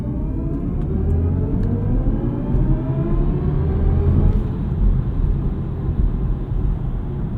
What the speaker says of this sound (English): let's sneak in a quick launch control start here